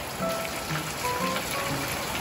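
Heavy rain pours down in a steady, dense hiss of drops striking surfaces, constant and close, with no talking.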